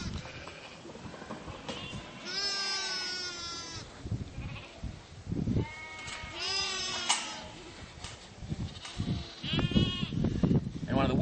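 Merino sheep bleat repeatedly at close range, several ewes and lambs calling over one another in wavering cries amid a restless, shuffling flock.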